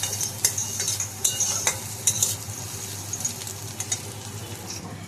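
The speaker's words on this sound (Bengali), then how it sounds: "এখন তেলের ওপর ভেজে নিচ্ছি। দেখো, পেঁয়াজগুলো ভেজে নিচ্ছি।" Chopped onions, with capsicum pieces, frying in hot oil for a homemade chicken pizza, with a steady close sizzle and repeated scraping strokes of a spatula stirring the pan; no voices.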